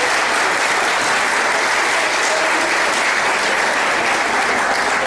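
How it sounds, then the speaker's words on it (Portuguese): A lecture audience gives Professor Ivo a sustained round of applause at a Marxism and education discussion series, dense steady clapping filling the hall throughout. "uma salva de palmas ao professor Ivo"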